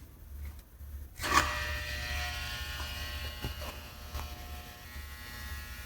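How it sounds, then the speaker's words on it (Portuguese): A laboratory drying oven being switched on, a click followed by a steady low electrical hum and faint buzzing that carries on to the end. "Deixa eu ligar a estufa aqui."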